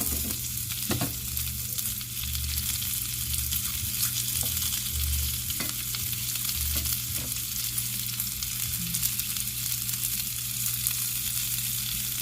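Sausages frying in a pan for homestyle sausage and potatoes, giving a steady close sizzle with occasional pops and light crackles throughout, no voices.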